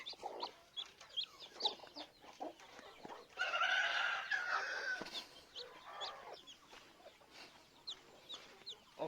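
Chickens cluck and crow close by, a busy stream of short clucks with a louder, longer crowing call in the middle, heard without talk.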